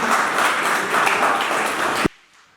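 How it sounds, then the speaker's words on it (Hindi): An audience gives loud, dense applause to welcome a harmonica player at a felicitation programme for a guru, sustained for about two seconds before cutting off abruptly into near silence. "जोरदार तालियों से स्वागत करें दोस्तों।"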